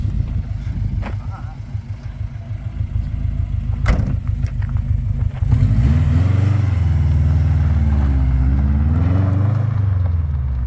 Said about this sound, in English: All that remains then, go for the drive.